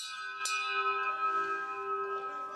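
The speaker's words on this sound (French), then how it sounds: "Un coup de cloche comme un rappel." A single bell stroke rings out with a sharp attack, then its steady harmonic tones hum on and slowly decay across the rest of the moment, clear and fairly close with no voices.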